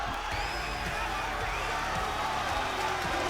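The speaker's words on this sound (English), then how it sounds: "there you hear the chants of Ospreay by the crowd" Crowd at a live pro wrestling show chanting Ospreay, a dense roar with a rhythmic repeated pulse of voices at a steady, fairly loud level throughout.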